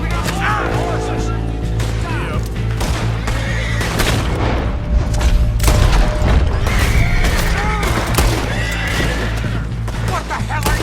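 Several horses whinny and neigh in Red Dead Redemption 2 amid a busy, loud scene with hoofbeats, scattered bangs like gunfire, and people talking over it.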